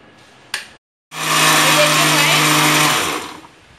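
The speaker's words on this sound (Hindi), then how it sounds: "अब हम इसको मिक्सी को चलाते हैं।" An electric mixer grinder runs loud and steady as it grinds leftover roti into crumbs, whirring for about two seconds after a short click before winding down.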